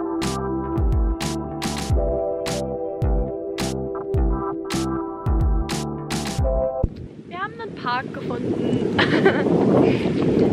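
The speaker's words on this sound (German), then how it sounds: "Ich weiß auch gar nicht, ob ihr mich hören könnt, weil es ist schon wieder Wind hier." Outdoors in Valencia, Spain, rhythmic music plays for about seven seconds before giving way to loud, rumbling wind buffeting the microphone, with faint voices underneath.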